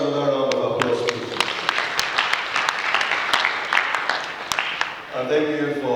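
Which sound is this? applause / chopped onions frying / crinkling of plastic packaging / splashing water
applause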